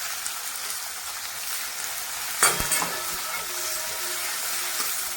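Onion and curry leaves fry in hot oil in a pan, a steady dense sizzle running throughout with a brief louder burst of stirring and clatter midway, no voices.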